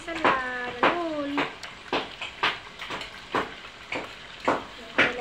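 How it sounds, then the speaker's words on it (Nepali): Food frying in a pan gives a steady sizzle beneath a voice speaking in short, regular bursts. "फेरि अझै मजाले फ्राई गर्नुपर्छ"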